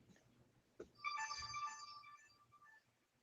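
An incoming call rings on a phone in a quiet room, a faint tick followed by a bright electronic ringtone that swells and fades over about two seconds.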